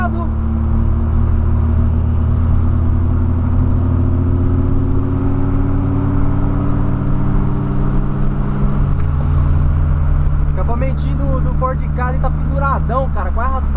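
A loud, throaty car with a hanging exhaust nearly scraping the ground drones nearby, its pitch sliding as it moves past, then fading while other traffic noise follows.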